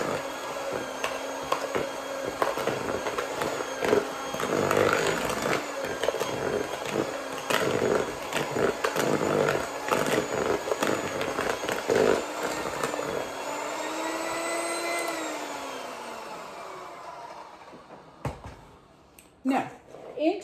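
An electric mixer whirs through gluten-free Christmas cake batter as flour goes in, a loud continuous motorised drone with rattling against the bowl that winds down near the end.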